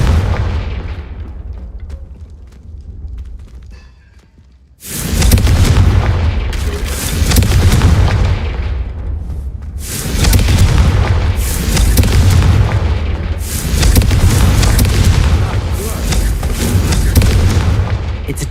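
Repeated Confringo fire spell blasts in Hogwarts Legacy, four loud booming explosions spaced a few seconds apart, each with a long crackling tail, after a quieter opening.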